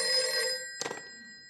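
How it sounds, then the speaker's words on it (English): A telephone bell rings in a short close burst partway through, its metallic trill standing alone against a quiet, faintly humming room, with nobody speaking. "The phone rings."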